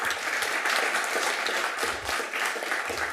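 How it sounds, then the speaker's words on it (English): Applause from an audience at a Costa Mesa city council meeting, many hands clapping in a steady, even wash that holds throughout without talk. "So let's clap for them."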